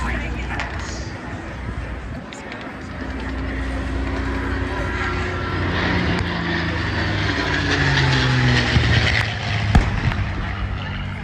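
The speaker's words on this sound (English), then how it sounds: "Let's just take a look and listen as the Mustang sets up another low-level straight pass." P-51 Mustang fighter making a low-level straight pass during a Battlefield Europe reenactment at an air show, a continuous engine roar that slowly builds louder as it approaches, with crowd and ambient noise around.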